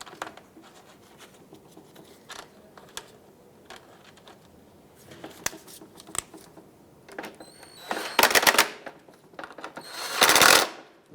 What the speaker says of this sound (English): Let's bolt it in.